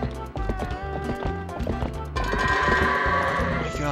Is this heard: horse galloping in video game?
yes